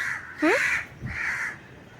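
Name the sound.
crows cawing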